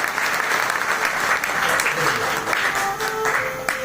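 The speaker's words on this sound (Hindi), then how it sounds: "ऐसे महापुरुष के लिए जोरदार तालियां बजाइए।" Loud, sustained applause from a devotional gathering at a Shiv Puran katha, dense crowd clapping with faint voices and tones beneath it.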